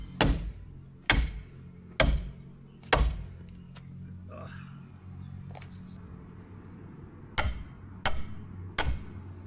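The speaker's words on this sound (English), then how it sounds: "drive them into the ground so it'll help keep it from flipping over if there's a wind" Stakes are hammered into the ground outdoors, seven sharp metallic strikes in two groups, three evenly spaced, a pause with faint chirps, then three more near the end, fairly close and crisp.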